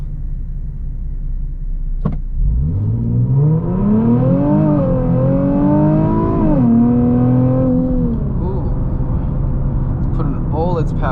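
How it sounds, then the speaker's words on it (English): A Nissan 370Z Nismo with a valvetronic exhaust revs up hard and accelerates, pitch climbing through gear changes over several seconds, loud and close, then settling down. "So let's see how well this car takes off."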